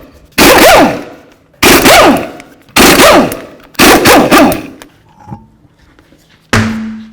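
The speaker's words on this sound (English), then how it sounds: "remove all 5 of our lug nuts and then remove the wheel" Lug nuts come off a 2006-12 Ford Fusion front wheel with an impact wrench, four loud close rattling bursts about a second each, with brief pauses, a small clink, then a fifth burst starting.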